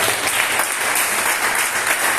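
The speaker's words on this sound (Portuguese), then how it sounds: "Um aplauso bem forte, meu Deus." Church congregation breaking into strong applause during a sermon, a loud, dense and sustained burst of clapping from many hands filling the room.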